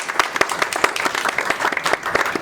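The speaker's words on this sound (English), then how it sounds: "So let's give a big round of applause." Audience applause at the 2019 OMPEG Summer Showcase: a dense, steady patter of many hands clapping together throughout, fairly close and lively, with no voices over it.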